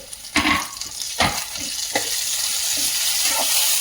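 Onions browning in a frying pan sizzle steadily as tomato is added, with a few soft stirring scrapes and thumps early on, then a continuous close hiss alone for the rest.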